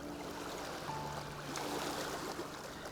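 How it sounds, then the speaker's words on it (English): Soft, steady water lapping on rocks and trickling, a gentle continuous wash with faint low tones in the background and no voices. "The sound of water lapping on the rocks."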